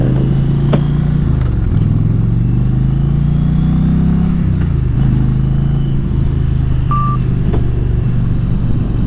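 A 2020 Indian Challenger motorcycle pulls away in first gear with a loud, close engine drone whose pitch rises and dips, while a steady electronic beep sounds intermittently over it.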